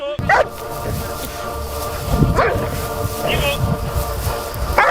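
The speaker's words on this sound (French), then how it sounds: "Quand le chien est rappelé, le chien il arrête de mordre directement." A police dog during bite training gives short yelps and barks, mixed with whimpering, amid the scuffling of a handler in a protective bite suit. People talk throughout, close and loud.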